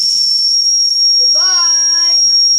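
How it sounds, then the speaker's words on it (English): A Wilesco toy steam engine lets out one sustained whistle toot over a constant high steam hiss, sliding slightly upward as it starts, then cutting off, loud and close. "Toot the whistle and say goodbye on this engine, Jordan"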